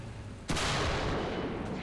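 A tank cannon fires in War Thunder during a Leopard A1A1 versus Type 74 battle, one sudden loud boom with a long rumbling tail over faint background.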